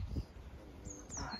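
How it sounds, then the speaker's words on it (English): Birds chirp faintly in a quiet garden with a bird table, a few thin high calls drifting in behind low rustling and handling noise. "you can hear the birds singing"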